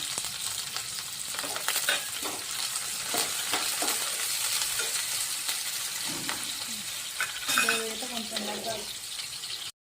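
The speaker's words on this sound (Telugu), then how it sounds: "ఆయిల్ అయితే వేడైపోయింది పచ్చిమిర్చి ఆనియన్స్ అయితే వేసేసిన" Green chillies and onions sizzle and crackle in hot oil in a pan, a loud continuous frying hiss with scraping stirs throughout and a brief clatter near the end.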